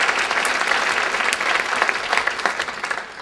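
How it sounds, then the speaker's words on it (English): Applause from an evening arts gathering for cultural district partners, a dense, steady patter of many hands clapping throughout, fairly close and without talk over it. "So let's give a round of applause to our cultural district partners."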